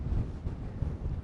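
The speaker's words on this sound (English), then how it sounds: "hopefully you can hear me above the wind" Wind gusts across Kinder Scout moorland, buffeting the microphone with a low, rumbling roar that rises and falls over a brief moment.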